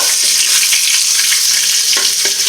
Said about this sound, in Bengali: আর এই তো দেখেন আমার মাছ ভাজিগুলো করে নিচ্ছি, মানে তেলাপিয়া মাছ।